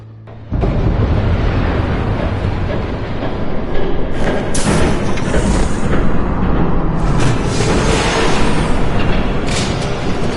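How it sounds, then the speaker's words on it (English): A train rushing past in Batman: The Telltale Series video game, a loud, sustained rumbling roar that surges in and holds steady for several seconds, with harsher rattling bursts layered on top. "There's a train coming."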